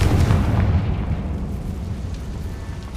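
A Confringo spell explosion in Hogwarts Legacy: a loud, close fiery blast with a deep boom that rolls off into a fading rumble over a few seconds.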